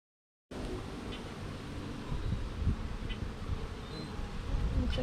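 Honey bees buzz steadily at an open beehive, a low dense hum of many insects close by, with faint rustling and occasional louder passes as individual bees fly near.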